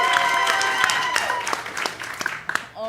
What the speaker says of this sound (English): We will give them all a little bit of applause because it's about kindness